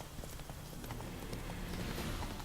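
Horse hooves clip-clop at a steady trot in the video game The Witcher 3, a quiet, even rhythm of hoof falls under a wash of ambient game noise and wind, with no talking.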